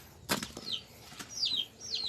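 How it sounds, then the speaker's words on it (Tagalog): Short bursts of wing flapping from chickens in Al-Qunfudhah, Saudi Arabia, a few quick flutters at close range, with faint high chirps between them. "Mga manok."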